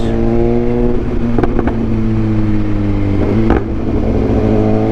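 BMW S1000XR motorcycle engine droning steadily on a highway, broken by a few sharp, loud exhaust backfire cracks, close by and without talk.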